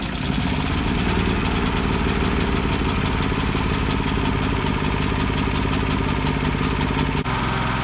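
A Predator 9500 inverter generator runs steadily after its first oil change, a loud, continuous mid-pitched engine drone with a fast, even pulsing that holds for most of the stretch before a brief dip near the end.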